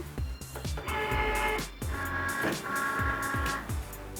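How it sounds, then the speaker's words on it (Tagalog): A Cricut Maker cutting machine loading a mat, with whirring motor runs and stepped mechanical tones starting and stopping in a few bursts, close and fairly loud. "Then let's load it to our machine"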